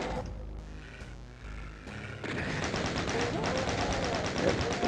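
Enemies in Doom shoot with rapid, repeated gunfire that grows into a steady rattling volley, loud and close, while a voice talks over the shooting.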